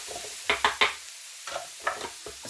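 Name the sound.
frying vegetables in a pan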